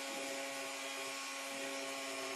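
PROXXON FBS 240E precision drill/grinder grinding: a continuous high-pitched whine with a light abrasive hiss, steady and close throughout, no voices.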